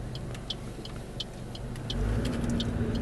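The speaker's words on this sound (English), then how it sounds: "So let's pull out from the curb and go for a drive" A car pulls out from the curb and drives off, its engine rumble low and steady at first, then rising into a louder, fuller drone as it accelerates, with faint clicks above.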